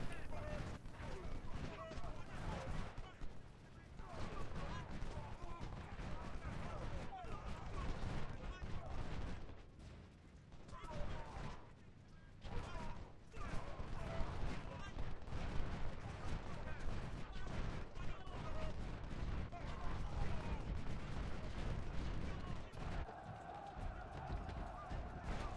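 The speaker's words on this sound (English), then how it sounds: "the rifle cav are just taking shot after shot on that artillery, just tearing them up" Rifle cavalry firing on an artillery position in the Civil War strategy game Ultimate General: Civil War at Antietam, a dense, continuous crackle of musketry and booms with someone talking over it.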